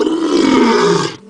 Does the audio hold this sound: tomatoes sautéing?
no